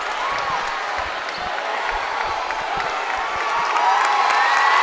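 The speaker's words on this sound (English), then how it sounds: "Crowd letting the Wildcats know they appreciate the effort" A high school basketball crowd at a Riley Wildcats versus Adams Eagles game cheers and claps in a steady, dense roar that swells slightly toward the end, with faint shouts mixed in.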